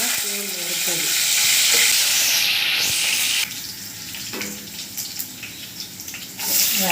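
Cardamom pods and green chillies fry in hot oil in a pan for chicken biryani, a loud close sizzle with stirring that drops to a softer crackle partway through, then rises again.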